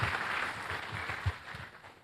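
Congregation clapping during a Portuguese-language Sunday church service, a steady, fairly faint patter of applause with rhythmic claps mixed in, no clear speech on top.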